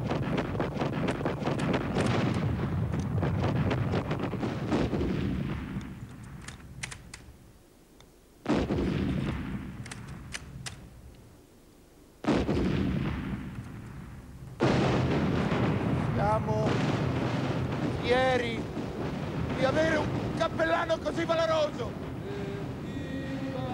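Staged gunfire in a theatrical war play, with sustained loud, rumbling volleys and bursts broken by brief pauses, while voices shout and speak over and between the shots.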